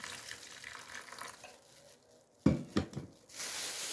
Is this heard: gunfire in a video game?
no